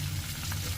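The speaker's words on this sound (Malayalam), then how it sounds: "ഇനി ഇതിലേക്ക് നമ്മൾ അരിഞ്ഞു വെച്ചിരിക്കുന്ന ഉള്ളിയും വറ്റൽമുളകും ചേർത്ത് കൊടുക്കാം. ഇനി ഇത് ഒന്ന് മൂപ്പിച്ചെടുക്കാം" Chopped onions and dried red chilies frying in hot oil for a Kerala lunch, a steady close sizzle with a low bubbling hiss and no talk.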